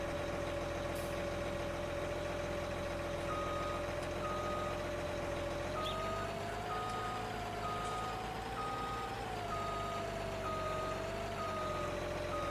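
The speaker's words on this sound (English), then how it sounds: "Back this in here." A backing farm tractor sounds repeated reversing beeps in a steady, evenly spaced pattern over its constant idling engine drone, close and alone without any talk.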